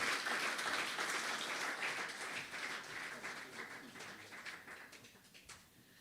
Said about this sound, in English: Another rousing round of applause for the Honorable Luke Browne.